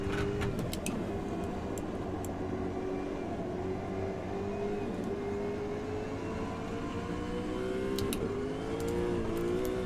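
A race car engine from the sim racing game Automobilista 2 drones at steady high revs, its pitch climbing slowly and evenly, loud and continuous with no talk over it.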